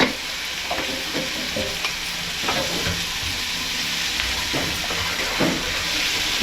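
Ginger-garlic paste and chopped onions sautéing with a little salt in a pan for an egg and okra tamarind curry: a loud, continuous sizzle with repeated stirring scrapes throughout.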